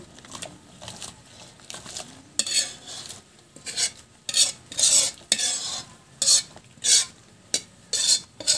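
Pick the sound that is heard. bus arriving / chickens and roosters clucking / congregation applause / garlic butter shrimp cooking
garlic butter shrimp cooking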